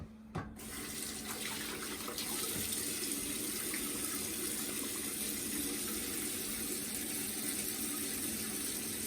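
Tap water runs steadily into a sink as someone wets their head and face before shaving, a continuous close hiss and splash after a brief clatter at the start, with no talking.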